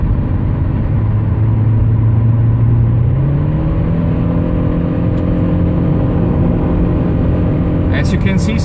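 A 2015-era Toyota Auris Hybrid cruises at high speed on a German Autobahn, heard from inside as a steady, loud drone of road and engine noise, with a low tone that steps upward partway through and holds.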